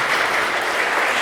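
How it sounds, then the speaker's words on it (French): An audience claps together in a steady, dense burst of applause with no speech on top, brief and evenly loud from start to finish. "Applaudissons Benoît XVI,"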